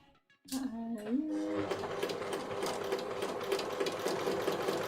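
A sewing machine starts up and stitches steadily, a fast continuous mechanical whirr after a brief quiet moment.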